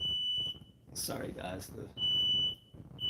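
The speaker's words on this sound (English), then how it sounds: "smoke alarm's going off" A household smoke alarm sounding in a home where food is burning, its piercing high beep coming in long bursts close by while someone talks between and over them.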